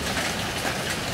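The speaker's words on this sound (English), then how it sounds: "Hail everywhere." Hail pelts the ground outside during a hailstorm at a park, a dense, steady rattle of icy pellets striking surfaces, loud and continuous with no pauses.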